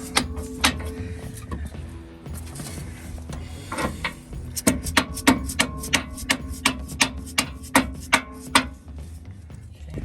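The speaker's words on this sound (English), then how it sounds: "that bushing kind of popped out, so we're just going to use a big socket to drive it back" A large socket is hammered to drive a popped-out suspension bushing back into place on a Jeep JL during a RockJock antirock sway bar install, giving a run of sharp, evenly spaced metallic knocks after some quieter handling noise.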